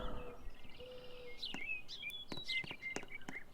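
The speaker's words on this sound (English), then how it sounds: "And you just hear the birds singing and..." Birds sing in a Roblox game world, with thin, high chirps and short trilling phrases scattered over a steady soft ambient bed, moderately distant and fairly quiet.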